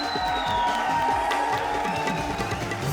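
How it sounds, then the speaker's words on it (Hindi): Studio audience at a televised comedy show cheering and clapping, a loud continuous crowd roar with whoops over it, while music plays underneath. "जोरदार तालियां हो जाए कृष्णा, सुदेश और मेलिसा के लिए।"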